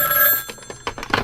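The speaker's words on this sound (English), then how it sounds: "the phone jangles me awake," An old-fashioned telephone bell rings in a short, loud burst, followed by a few clattering knocks, in an old-time radio drama.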